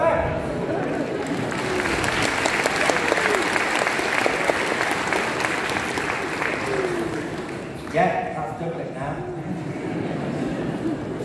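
An audience at a Christmas science lecture claps in sustained, fairly loud applause for volunteers on stage, with a brief bump of crowd noise partway through.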